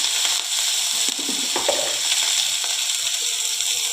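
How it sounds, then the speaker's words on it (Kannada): Vegetables frying in oil in a pan give off a steady, close hiss and sizzle, with occasional light stirring clinks and no voices. "ಎಣ್ಣೆ ಹಾಕಿ ಹುರ್ಕೋಬೇಕು."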